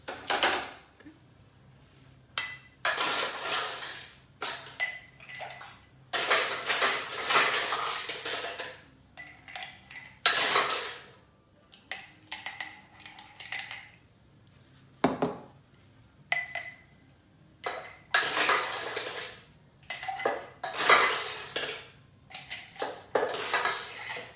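Ice and metal clinking in a mixing glass as a Sazerac cocktail is stirred, bright rattling bursts in repeated rounds with brief pauses, close and fairly loud, with no voices.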